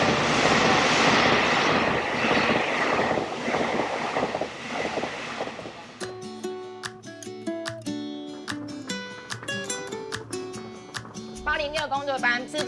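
A train passes on rails with a loud, continuous rumble and rattling for about six seconds before music takes over for the rest.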